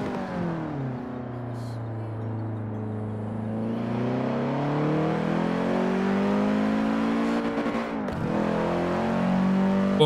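A 1962 Peel P50 in the video game Forza Horizon 4 revs its small engine up through the gears, the pitch climbing and dropping at each shift with a sharp break near the end. The sound is steady and close.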